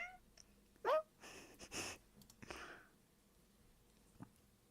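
A pet cat gives a short, bright meow, followed by a few breathy sniffs and soft rustles in an otherwise quiet room.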